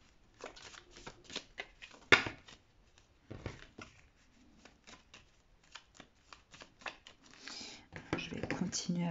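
Tarot and Lenormand cards being shuffled and drawn by hand, a run of soft papery riffles and flicks in short bursts with brief pauses, close to the microphone, with quiet speech in places.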